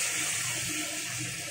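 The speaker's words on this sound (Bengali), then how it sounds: "এখন আমি এখানে জল দিয়ে দেবো।" Water poured into a pan of spiced potato and bean curry, a steady, close hissing splash that runs without a break.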